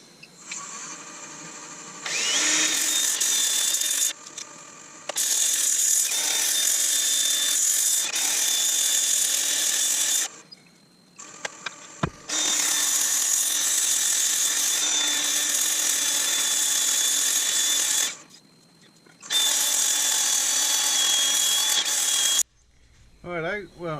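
A lathe spins with a steady high whine while sandpaper rasps against turning yew wood and resin in long passes, stopping and restarting several times.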